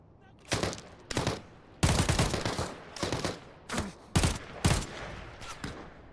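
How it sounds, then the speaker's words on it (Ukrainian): Gunfire in the video game Arena Breakout Infinite, with loud, close bursts of automatic shots and single cracks spread through the clip, separated by brief gaps, with no talking. "Звідки в мене ще стріляють?"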